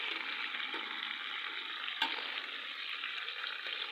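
Fish heads frying in hot oil in a pan give a steady, dense sizzle that holds evenly throughout, with one brief clatter midway.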